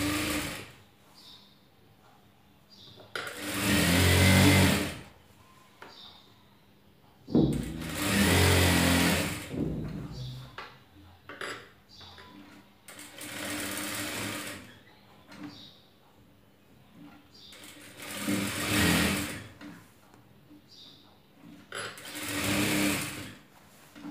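Sewing machine stitching a folded quarter-inch hem on an old nightie being made into palazzo pants, running in five loud whirring bursts separated by quiet handling pauses.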